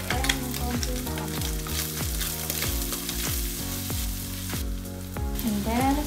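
Pork sautés in oil in a pan with a loud, continuous sizzle and crackle for the full duration, alongside stirring and background music.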